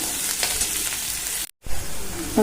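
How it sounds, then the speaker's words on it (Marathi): Onion frying in a pan for a potato curry, a steady close sizzle that cuts out for a moment, then returns with a few brief stirring scrapes near the end. "आपल्याला हा कांदा छान असा गुलाबी कलर येईपर्यंत भाजून घ्यायचंय आहे"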